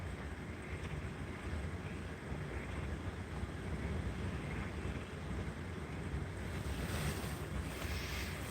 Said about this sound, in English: This wind's just not easing up